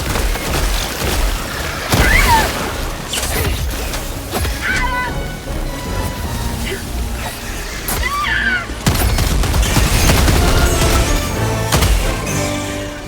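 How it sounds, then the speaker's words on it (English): Airstrike explosions in Helldivers 2: a rapid series of loud booms, crashes and crackling blasts in irregular bursts, with brief lulls between volleys over a busy combat background. "when I was trying to break one egg earlier, I just needed a full airstrike"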